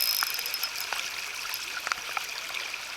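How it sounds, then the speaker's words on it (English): Deeper, faster-moving stream water rushes and burbles in a steady close hiss with small splashy bursts, with no voices. "I'm in some deeper, faster moving water."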